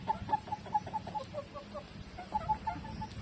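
Chickens cluck repeatedly in a farmyard, short rhythmic calls in bursts close to the microphone, over steady outdoor background noise with no talking.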